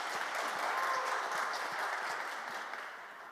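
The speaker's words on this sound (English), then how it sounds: "A warm round of applause." A symposium audience gives a sustained round of applause, dense crowd clapping that fills the space evenly and tapers slightly toward the end.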